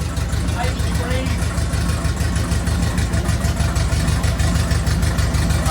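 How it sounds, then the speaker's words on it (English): An MK1 Ford Fiesta engine idles steadily at low revs after warming up, a close, even, rhythmic throb that runs the whole time, with someone talking over it. "had it running, had it idling, got it up to temperature"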